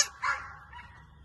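A dog on a farm barks as people handle goats nearby: two quick barks, then a softer whining yip trailing off, fairly close and alone without talk.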